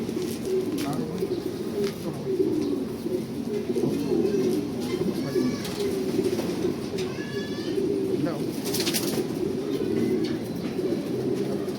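Pigeons coo steadily in a loft in a low, throaty murmur throughout, with occasional wing flutters and a voice speaking briefly over them.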